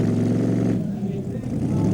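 A tuned tractor-pulling engine at a Dutch tractor pulling event, heard loud and rumbling after a full pull, with a commentator's voice over the engine noise.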